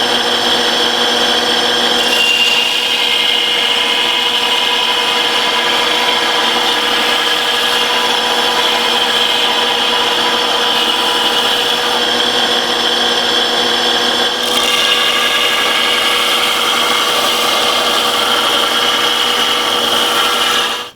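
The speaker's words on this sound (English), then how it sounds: "I'm going to use that same belt sander I just used and just by hand create a sharpening." A belt sander grinds a sharpening edge by hand onto a double bit axe head during a restoration, giving a steady, loud abrasive whine that runs without a break and without talk.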